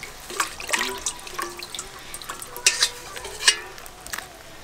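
Water splashes and trickles into a bucket holding freshly caught live fish in a village, with irregular soft splashes and drips, fairly quiet and close.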